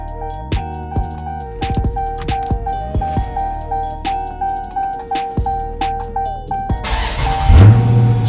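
A Mopar car with push-button start is cranked over. The starter chugs in rapid repeated pulses for several seconds before the engine catches and fires up with a rising roar close by.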